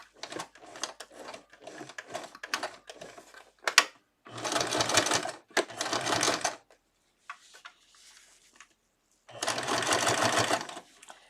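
Sewing machine stitching cloth diaper fabric in short bursts: several quick stops and starts, then longer steady runs around five and ten seconds, close and clear with a quiet pause between.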